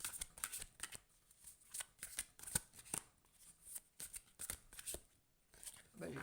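Oracle cards are shuffled by hand in quick, crisp riffles and slides, with repeated papery flutters in irregular bursts, close and fairly quiet.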